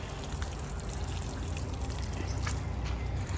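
Water trickles and pours through a potted shade plant, draining out of the pot in a soft, continuous splashing dribble, faint and close, with no voices.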